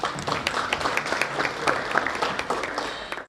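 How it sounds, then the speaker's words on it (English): An audience at a community event gives a round of applause, dense clapping from many hands filling the room steadily before cutting off abruptly at the end. "I'd like to just give a round of applause again to everyone here who makes that happen"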